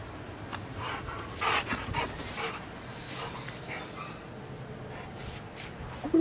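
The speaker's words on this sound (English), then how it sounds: "Well, that's my dog, and he likes to try to keep this away from me." A dog panting rapidly nearby while shuffling and moving about indoors, with soft footsteps, light bumps and a brief whimpery sound over a quiet background.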